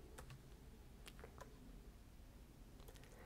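A computer keyboard gives faint, scattered keystroke taps, a few irregular clicks at a time over a quiet room hiss.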